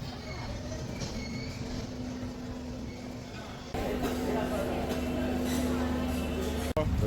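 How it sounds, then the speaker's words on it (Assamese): A passenger train pulls into Guwahati railway station with a continuous rumbling, humming roll that grows louder partway through, while people talk over it. "ফাইনেলি গুৱাহাটী ষ্টেচন সোমাই দিলে আমাৰ ট্ৰেইনখন"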